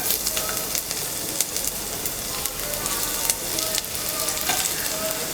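Ginger and garlic sizzle steadily in hot oil in a pan for a South Indian egg kothu parotta gravy, a loud continuous frying crackle with occasional stirring, no talk.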